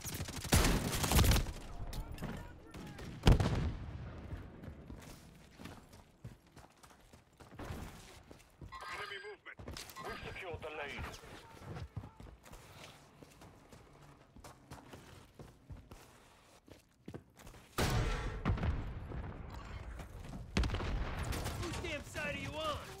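Gunfire in the video game Call of Duty: Black Ops 6, with bursts of shots and explosions building and fading amid game sounds, heard loud and close, with voices calling out in between.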